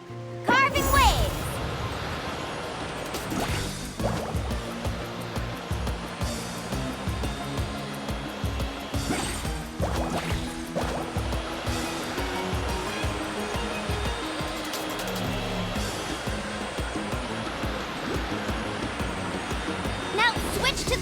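Surfing on water in the video game Genshin Impact makes a constant rushing, hissing wash of splashing waves with periodic surges, loud and steady throughout, with game music and voices layered in the mix.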